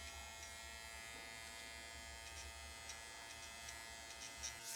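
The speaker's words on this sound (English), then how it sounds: "So you do want to angle your clipper towards the grain on those parts." Suprent Phantom electric hair clippers run continuously while trimming hair, a steady close motor buzz at low volume with no speech.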